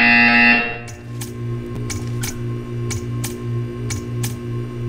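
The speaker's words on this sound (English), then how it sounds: "When you hear the buzzer, stare at the art." Buzzer in the video game Portal 2, a loud tonal blare at the start, then a repeating pattern of sharp ticking clicks over a steady low electronic hum.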